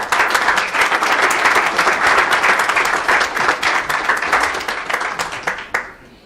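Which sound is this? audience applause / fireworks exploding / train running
audience applause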